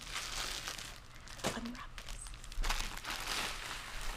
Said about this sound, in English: And then unwrap this.